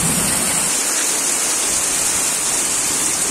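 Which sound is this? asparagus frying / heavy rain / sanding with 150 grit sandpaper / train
heavy rain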